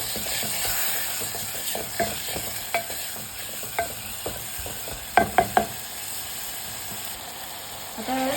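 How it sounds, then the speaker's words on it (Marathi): Finely chopped tomato cooking in a pan gives a soft, steady sizzle, close by, broken by a few light scraping stirs and a quick cluster of clicks near the end. "आता टोमॅटो व्यवस्थित शिजू द्यायचा."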